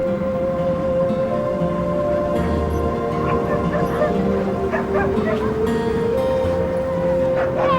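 Alaskan sled dogs bark, yip and whimper in an excited chorus outdoors, continuous and close, with a crowd murmuring in the background.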